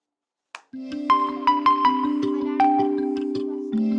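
A phone alarm rings with a steady electronic melody of repeating tones, loud and close, continuing without pause and no talk over it.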